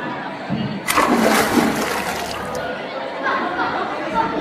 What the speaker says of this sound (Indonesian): Siti Fatimah sudah melompat ke dalam sungai